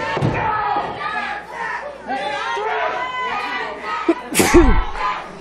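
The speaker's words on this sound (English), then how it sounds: "I think you're sneezing" At a live wrestling event, a loud, sharp sneeze bursts out near the end over a noisy crowd and overlapping chatter.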